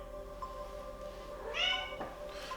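A pet cat in a home kitchen gives one clear, close meow amid a low hum while a pot roast is being prepared.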